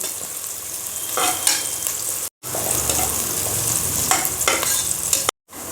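Onions sauté in a pan until browning for biriyani, a loud steady sizzle with intermittent scraping strokes of stirring, close up, broken by two brief cuts to silence.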